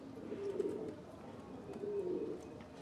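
Pigeons on a rooftop where birds are nesting on eggs, giving soft low cooing calls in two drawn-out phrases, fairly near and moderately quiet over faint background noise.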